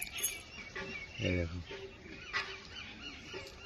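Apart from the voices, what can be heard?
pigeons fighting with each other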